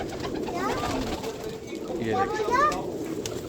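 A huge flock of several thousand pigeons coos in a dense, continuous murmur in a crowded loft, with someone speaking briefly over the birds.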